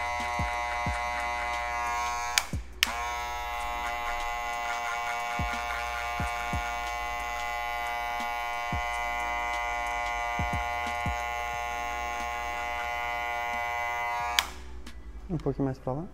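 Electric hair clipper fitted with a number 1 guard buzzes steadily through a barbering haircut, a loud continuous hum that stops briefly around a few seconds in, then resumes before cutting out near the end.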